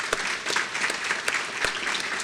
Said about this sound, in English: please stand and let's give you a round of applause